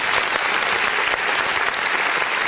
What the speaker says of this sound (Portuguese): Vamos aplaudir o nome do Senhor Jesus.